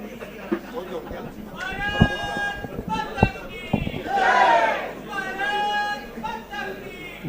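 A crowd at a Rajasthan political rally chants slogans in rhythmic, voiced bursts that swell and fade, with a louder collective cry in the middle and a few sharp knocks, over a background of chatter.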